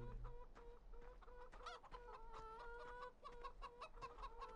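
Chickens clucking on a farm in Farming Simulator 15, a steady run of repeated clucks and calls from several hens close by, continuous throughout with no talking.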